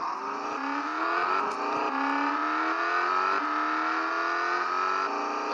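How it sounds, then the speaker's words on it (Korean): Car engine accelerating steadily in a 3D driving simulator game, a loud continuous drone whose pitch climbs through several gear steps with no talking. "이쯤에서 가속 페달을 밟습니다."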